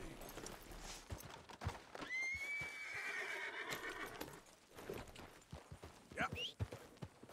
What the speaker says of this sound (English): Oh, look, a horse.